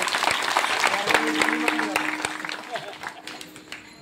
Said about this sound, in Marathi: सर्वांची चेहरा सुंदर अशा एका जोरदार टाळ्या वाजवा.